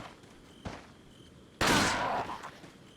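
A burst of gunfire in the original Resident Evil 4, played in a randomizer, comes as a sharp loud blast with a short ringing tail after a brief earlier thud over quiet background, with no speech.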